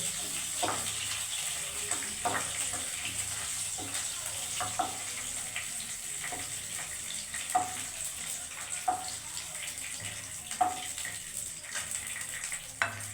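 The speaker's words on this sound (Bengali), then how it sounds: "আমি নারকোলগুলো হালকা ভেজে দিচ্ছি এবারে পেঁয়াজগুলো দিয়ে দেবো" Grated coconut and onions fry gently on low heat for a fish curry, a constant soft sizzle under regular scraping strokes of a spatula stirring in the pan.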